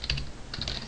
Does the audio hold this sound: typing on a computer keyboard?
yes